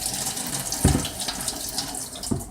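A kitchen tap runs steadily while butter is rinsed off hands, giving a continuous close splash with a couple of louder bursts as the hands move under the stream.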